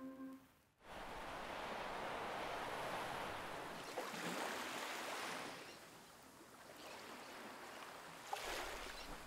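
Waves from a ferocious sea breaking against the jagged lava rock coastline of Sao Miguel in the Azores, a steady loud roar of surf with swells rising around the middle and end, with no voices.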